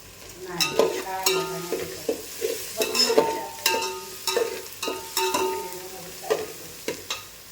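Tomato and turmeric masala fries in a pan with a soft sizzle under repeated scraping stirs, close and moderately loud in an uneven rhythm.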